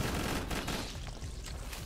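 Rapid bursts of video-game gunfire from a gun shooting healing darts, loud and dense, with a fast stuttering rhythm over steady background noise and no voices.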